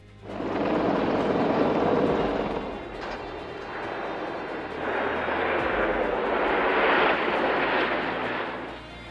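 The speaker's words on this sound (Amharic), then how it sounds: "ኔቶ ስታንዳርድ ዘመናዊ ማሰልጠኛ አውሮፕላኖች ታጥቀዋል።" Modern NATO-standard military training aircraft fly past, a loud, broad roaring drone that swells and recedes over several seconds, with no talking.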